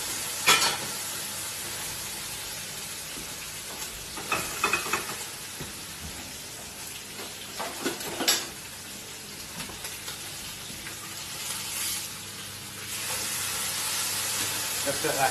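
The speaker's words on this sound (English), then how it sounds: "That's just been marinated in the soya, sriracha. Straight at the top, nice hot seared pan." Soy and sriracha marinated food sears in a very hot pan, a loud, steady hissing sizzle with a few sharper crackles and scrapes, swelling toward the end, no speech heard.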